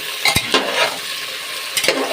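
Vegetable khichuri fries in a pan with loud, close sizzling. A spoon stirs through it with a few scraping strokes, and small bursts of crackling and popping sit over the steady hiss. No voices are heard.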